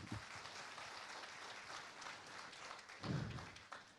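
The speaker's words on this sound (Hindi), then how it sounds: "इनके सवाल के लिए एक जोरदार ताली।" An audience at a Bhojpuri-language public stage event gives sustained applause for a question, a moderate wash of clapping with a few louder thumps near the end.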